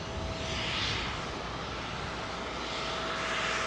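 Aircraft on runway 27L at London Heathrow, a steady loud broadband engine roar with a whooshing swell, continuous throughout and without any talking.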